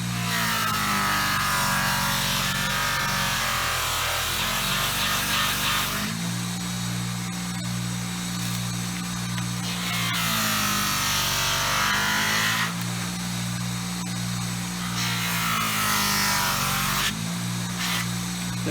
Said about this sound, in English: Sorry, buffing wheel.